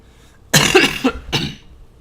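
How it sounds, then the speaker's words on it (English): A single close, loud cough bursts out, followed by a second shorter cough, from one person with no other speech. "Sorry, got a bit of a cough right now."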